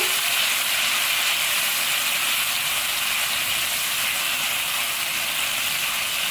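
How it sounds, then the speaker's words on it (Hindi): Garlic ginger paste fries in a pan for chicken karahi, making a loud, dense, even hiss that holds steady throughout, with no voices. "सबसे पहले हम इसमें लहसुन अदरक का पेस्ट शामिल करेंगे, 2 चम्मच, 2 टेबल स्पून है। इसको हल्का सा फ्राई करेंगे।"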